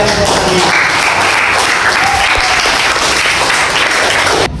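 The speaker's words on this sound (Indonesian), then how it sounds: "Mari kita berikan aplaus kepada yang bertanya." Applause from a class of students for a classmate who asked a question, a dense, loud burst of clapping filling the room and cutting off abruptly at the end.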